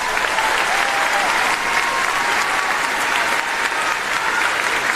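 Sustained applause from a graduation audience at a high school ceremony, dense steady clapping from a large crowd filling all five seconds without a break.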